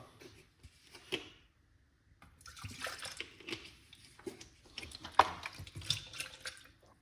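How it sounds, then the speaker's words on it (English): Water sloshes and splashes while a blender jar is rinsed out at a sink, irregular bursts of running and swirling liquid, fairly quiet. "Just gonna rinse out the jar."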